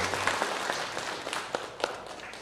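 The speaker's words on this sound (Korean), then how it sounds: "우리 하나님께 영광의 박수 올리겠습니다." A church congregation claps together in a broad, fairly soft wash of applause, with a few sharper individual claps standing out toward the end.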